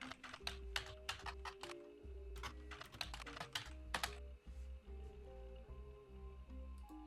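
Rapid bursts of clicky keystrokes on a computer keyboard come in uneven flurries with short pauses, close-up and fairly quiet, layered over a soft electronic music bed.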